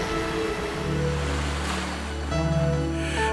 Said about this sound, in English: Lapped by the strong waves of the Atlantic